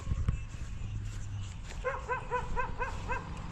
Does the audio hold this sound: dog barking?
yes